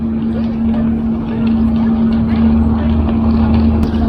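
A ferry's engine drones loudly and continuously on a Greek island route to Spetses, a deep steady hum with a constant low tone and some wind noise.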